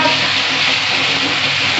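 Ginger garlic spice paste frying in a pan for marinated mutton, a dense continuous sizzle heard up close and loud throughout.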